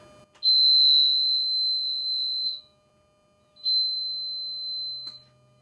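Two long, steady high-pitched electronic beeps from a boat engine key switch, the first about two seconds, the second shorter after a pause, clear and close in a quiet space.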